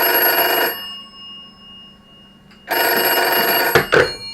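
An old telephone bell rings in a workshop shed, two loud electric rings separated by a pause of about two seconds, with a short clatter after the second ring.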